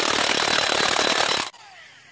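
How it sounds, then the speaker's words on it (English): A 30-year-old Sears Industrial power tool, used on the lug nuts of a 1994 Ford F350 diesel truck, hammers loudly and continuously for about a second and a half, then cuts off abruptly, leaving a faint fading whine. "So we're going to try and use the 30-year-old Sears Industrial. Take these lug nuts off"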